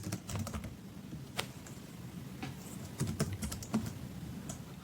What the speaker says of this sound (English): I think I can just type it out.